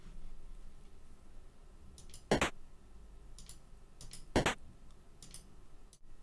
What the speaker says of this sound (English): So yeah, this is my unlocking sound.